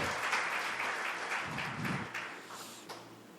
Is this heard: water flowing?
no